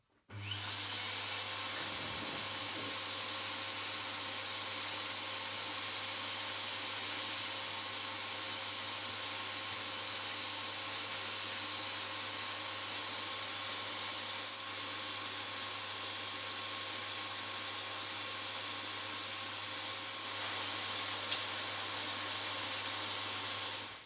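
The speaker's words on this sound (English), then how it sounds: "get the vacuum cleaner and a brush and clean off most of the dust" A vacuum cleaner whines steadily at close range while cleaning dust off a PlayStation 2, a constant loud roar with a high whistling tone that starts abruptly and runs unbroken, with no talk.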